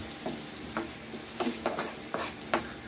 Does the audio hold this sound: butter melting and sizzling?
yes